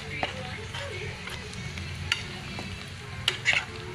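Bagoong alamang shrimp paste being stirred as it cooks in a pan, a low soft sizzle under scattered scraping and clinking strokes of the utensil, with a few sharper knocks near the end.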